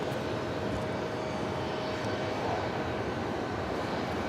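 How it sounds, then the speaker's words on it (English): An Etihad Airbus A380 rolls down the runway for takeoff at JFK, producing a broad, steady engine roar heard from a distance that holds constant throughout. "Etihad A380 Super now rolling down to 1-3 right"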